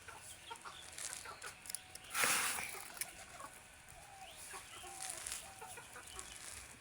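Pet pigeons coo and murmur nearby, broken by a short burst of flapping wings, over a soft outdoor background.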